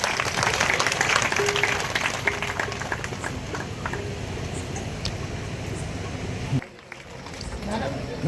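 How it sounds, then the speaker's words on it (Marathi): An audience at a religious gathering at Verul claps loudly and densely, the applause thinning and stopping abruptly near the end while a voice talks over it. "यांच्याकरता जोरात टाळ्या वाजवा।"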